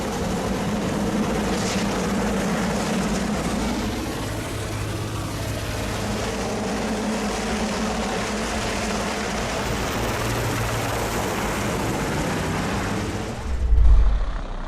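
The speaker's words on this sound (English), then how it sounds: "the big Sea King helicopter came near to the sandy ground" A big Sea King helicopter comes down near sandy ground, its loud broadband rotor and engine roar steady and close throughout, with a brief heavier thump near the end.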